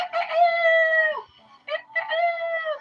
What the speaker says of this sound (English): It was a rooster crowing.